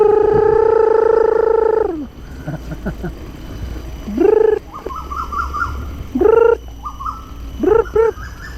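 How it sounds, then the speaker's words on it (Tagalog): Birds call in a forest near a cycling route, with long tonal coos and repeated rising whistled calls coming in separate bursts, fairly close and clear over quiet background. "Daming ibon ko."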